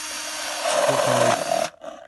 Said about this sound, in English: I just make another hole in the other end with the drill